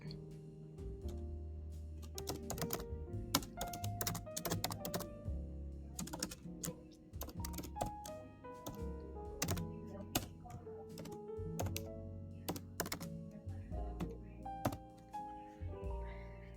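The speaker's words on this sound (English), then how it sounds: "let's type the following command for that" Typing a command on a computer keyboard: scattered, uneven key clicks and taps throughout, moderately close, mixed with a sustained tonal background.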